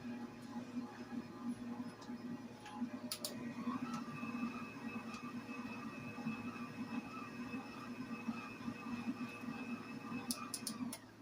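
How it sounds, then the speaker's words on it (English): A stand mixer kneads sticky bun dough with cinnamon powder, giving a steady, close motor hum with a faint rhythmic churn throughout and no talking. "You want to mix it until the dough is separated from the bowl."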